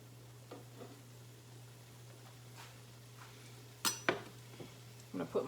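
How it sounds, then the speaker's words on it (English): Onions dropped into hot oil in a home kitchen, with faint sizzling, clinks of a pan and utensils, and a few louder sharp clatters near the end. "Oil has heated up. I am going to go ahead and put the onions in."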